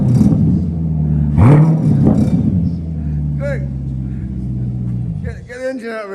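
A Chevy V8 engine idles and revs in a workshop, a deep continuous rumble with a quick rise and fall in pitch, while voices talk over it.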